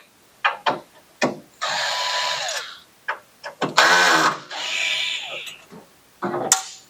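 A power screwdriver whirs in several bursts while taking out cover screws during repair of a Ri1000X printer with a PF motor error, interspersed with sharp clicks and clatter of handling parts close by.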